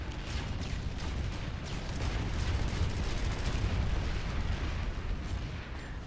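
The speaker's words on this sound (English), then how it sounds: "so I'm moving around the gunfire to get closer to them" Dense, continuous gunfire and explosions from a Light Assault battle in the shooter game Planetside 2, a steady rumbling barrage with scattered cracks and no voices.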